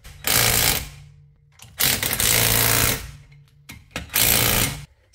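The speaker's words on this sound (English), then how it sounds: "So let's tighten these two bolts." A power tool tightens the front wheel bearing bolts on a rear-wheel-drive Mercedes-Benz in three loud, close bursts of rattling impact, each about a second long, with brief pauses between them.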